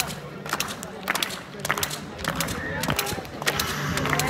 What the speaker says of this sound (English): Come on, everybody, do join in. Clap along with this guy.